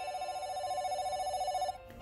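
A telephone bell rings steadily and loudly in a cartoon scene, a continuous electronic trill that cuts off near the end, with no talk over it.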